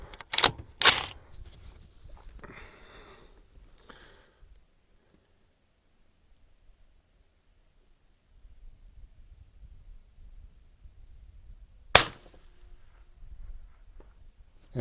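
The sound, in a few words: rifle shot from 24 inch bolt action AR15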